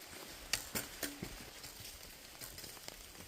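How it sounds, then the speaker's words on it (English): Rain patters on a trail in the Virginia mountains along the Appalachian Trail, close and soft, with a few louder drops hitting nearby over a steady wet hiss. "But guess what? It is raining, and we are not at mile 3 yet."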